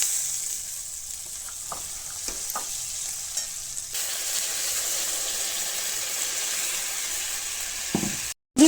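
Fish frying in oil with mustard paste, a steady close sizzle with occasional clinks of stirring, growing louder midway and ending in a sudden cut.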